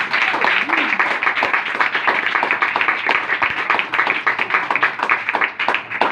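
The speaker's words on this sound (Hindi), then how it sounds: "यीशु मसीह के पास जोरदार तालियां।" A church congregation applauds loudly for Jesus, a thick wash of many hands clapping that pulses steadily throughout, with a faint voice briefly underneath.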